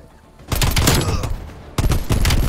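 Rapid gunfire from a shooter video game in gun game mode, with two loud, dense bursts of automatic shots, close and continuous, the second starting after a short dip.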